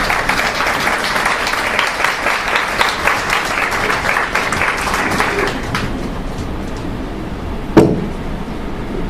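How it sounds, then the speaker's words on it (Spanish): Audience applause welcoming a speaker at a lecture, steady dense clapping that fades after about six seconds, followed by room noise and a single sharp knock or bump. "Le damos un aplauso para darle la bienvenida."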